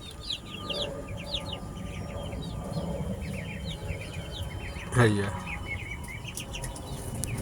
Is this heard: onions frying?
no